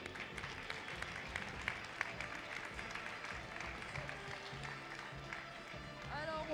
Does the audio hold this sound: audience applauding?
yes